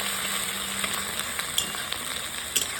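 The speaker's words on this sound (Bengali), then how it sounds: "প্রথমে আমি পেঁয়াজ দিয়া একটু কষায় লইতেছি পেঁয়াজটা" Onions frying in oil with bay leaves and cumin seeds, a steady close sizzle with a few light clicks of a spatula against the pan, no voices.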